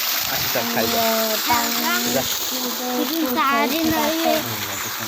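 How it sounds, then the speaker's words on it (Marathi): A farm water pump motor running as water gushes out, a constant rushing wash under a child's chatter throughout. "आणि मामाने मोटर चालू केली. पाणी येत आहे."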